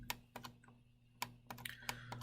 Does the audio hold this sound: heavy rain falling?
no